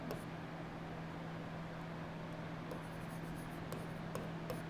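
Someone writing on a board during a classroom grammar lesson, with faint scratchy strokes and a few tapping touches in the latter half over a steady background hum.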